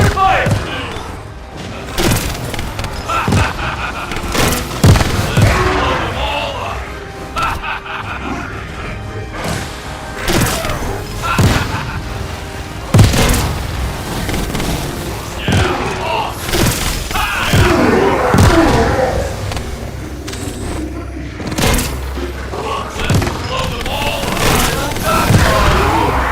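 A loud video game battle: heavy thuds, booms and crackling bursts of gunfire and explosions, dense and irregular throughout, with voices talking over the fighting.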